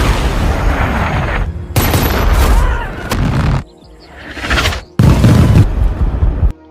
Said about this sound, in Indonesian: Tim melepaskan tembakan untuk menyelamatkan bocah tersebut disusul Hellfire yang dilepaskan dari drone